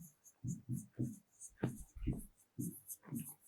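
Chalk or marker scratches across a board in short, separate strokes, close and fairly quiet, during a grade 10 science lesson on inheritance.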